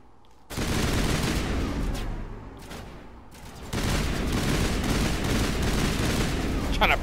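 Dense, continuous gunfire roars loud and near in the Mass Effect video game as a pistol is fired in bursts, breaking off briefly midway before a sustained barrage resumes.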